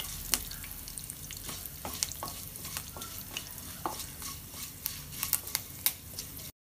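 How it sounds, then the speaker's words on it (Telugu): Curry leaves and dried red chillies fry in oil for a bendi fry, giving a steady close sizzle broken by scattered crackles and sharp pops, with a few stirring scrapes and no voices. "ఇప్పుడు కరివేపాకు ఎండుమిర్చి ఒక నిమిషం వేగుకుందాం"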